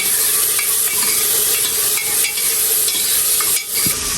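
Dal lentils go into a hot pan and get stirred, a loud continuous sizzle with scraping spoon strokes, close and without talk.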